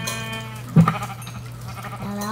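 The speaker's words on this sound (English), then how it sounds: "Come back here, sheep." A sheep in the Minecraft video game lets out a bleat with a brief, sharper burst partway through, clear and close, with no talking over it.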